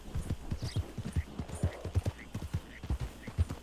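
Horse hooves clip-clop in a steady trotting rhythm in Red Dead Redemption 2, near and fairly loud, with a brief snort or whinny-like tone and faint game ambience behind.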